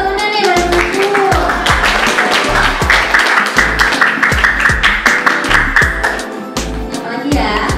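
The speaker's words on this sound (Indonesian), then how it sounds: "tepuk tangan dong buat temennya nih" Indonesian school audience at a youth health outreach session from Puskesmas Kebon Pala, Makasar, Jakarta, breaks into loud, sustained clapping, dense and steady for several seconds, with children's voices and chatter mixed through it.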